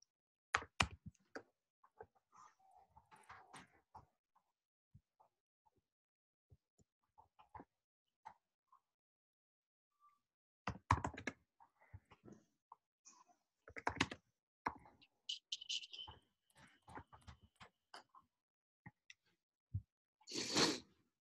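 Sparse, faint key clicks from typing on a computer keyboard in a quiet room, arriving in short irregular bursts separated by long pauses, with a slightly louder flurry near the end.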